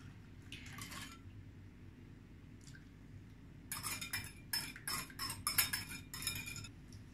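A spoon stirs sugar into warm milk in a bowl, scraping and clinking faintly against the sides in short bursts, busier toward the end, with no voices.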